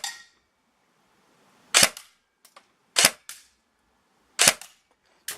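An ASG Scorpion EVO 3 A1 airsoft gun firing outdoors: four sharp, snappy shots spaced about a second apart, each with a brief ringing tail, loud and close with quiet between them.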